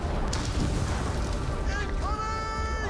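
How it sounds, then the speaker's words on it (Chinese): Loud, continuous blast roar from a battle in the video game Middle-earth: Shadow of War, a dense rumbling explosion that fills the whole moment with a brief whistling tone near the end. "It's coming！ 爆炸！"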